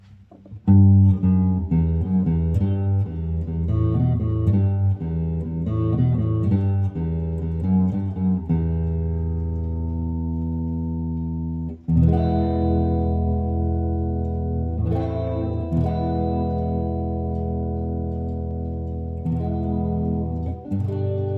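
A clean electric guitar, a 2021 Gibson Les Paul Modern with split-coil neck pickup, plays a run of picked notes and chords, then lets a few strummed chords ring out and sustain, fairly close and clear.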